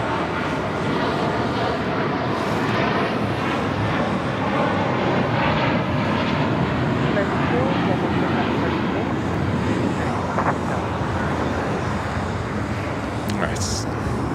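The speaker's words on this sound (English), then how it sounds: "That is Hawaiian Flight 10 coming up from Honolulu, A330." Hawaiian Airlines Airbus A330 arriving at LAX from Honolulu, a sustained, fairly close jet engine roar with a steady rushing texture throughout, voices audible under the noise.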